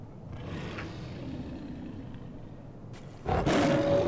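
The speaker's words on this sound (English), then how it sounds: "Oh, look, it's just a snow wolf." A snow wolf (Fenrir) roaring in the Final Fantasy XIV video game: a low growling rumble that swells into a loud, harsh roar near the end.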